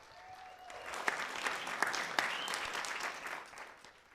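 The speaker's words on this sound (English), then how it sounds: "Let's give a big round to Mary and Jim." Steady applause from a small crowd of about thirty at a live charity beer-and-food event, a dense wash of many hands clapping that swells and then gradually fades, with no talking over it.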